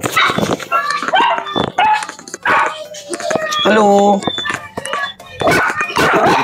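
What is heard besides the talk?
dog barking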